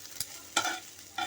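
Chicken frying in oil in a pan for restaurant-style chilli chicken, with soft sizzling broken by three sharp scrapes of a spatula stirring the pieces, quiet and close with no talking.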